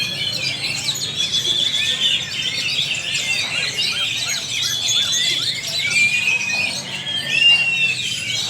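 An oriental magpie-robin (kacer), newly arrived and untrained, sings a busy stream of shrill whistles, chirps and squeaky trills, loud and close, with no talking.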